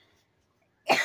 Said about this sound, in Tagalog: Inuubo pa tayo